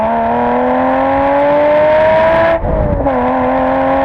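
A car with a Subaru-style H6 flat-six engine runs and revs steadily close by, holding a smooth rising tone that dips sharply for a moment near the end before settling again, with no talking.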